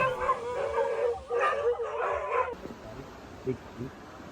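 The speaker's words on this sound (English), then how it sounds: "I have no idea why these dogs are going crazy" Dogs bark and howl in an excited, overlapping chorus for a few seconds, then it drops to a couple of faint yips against background noise.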